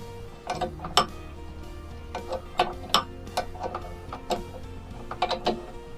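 A repaired water pump station is turned by hand and gives off a string of light mechanical clicks and ratchet-like ticks at an uneven rhythm. The sound is close, fairly quiet, and has a faint steady hum underneath.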